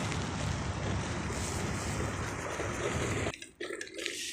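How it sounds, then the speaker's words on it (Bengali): Big sea waves surge and roar under heavy wind buffeting on the microphone, a loud broad wash that drops out abruptly near the end before returning. "আজকে তো দেখা যাইতেছে সমুদ্রের ঢেউ প্রচুর।"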